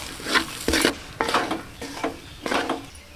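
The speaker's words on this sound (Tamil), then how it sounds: "நல்லா இட்லி சேர்த்து நல்லா சூடு பறக்க வறுத்தெடுத்துக்கலாங்க" Cut leftover idli and egg are stir-fried in a pan for egg podimas, with about five rhythmic bursts of scraping and stirring over a low sizzle, close and fairly loud.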